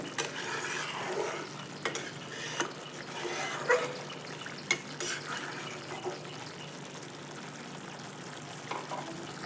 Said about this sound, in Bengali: ঢাকনা খুলে একটু দেখে নেব দিয়ে একটু নাড়িয়ে দেবো